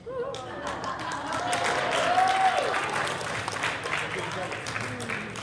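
An audience at a marriage communication session with a pastor claps steadily, swelling to a peak in the middle, while a voice carries over the applause.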